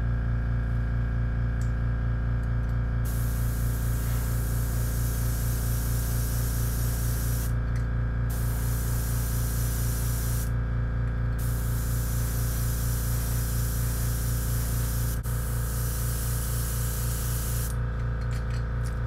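An airbrush sprays pearl satin gold paint onto a custom rainbow trout glide bait lure, giving a loud, continuous close-up hiss with a steady hum beneath it and a few brief pauses.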